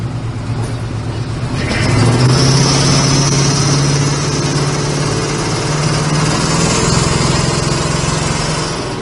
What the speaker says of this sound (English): Nice running truck.